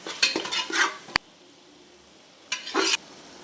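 Spices being stirred into mutton biryani masala with ginger-garlic in a cooker pot: two bursts of scraping and clinking against the metal, a sharp tap between them, then a quiet pause.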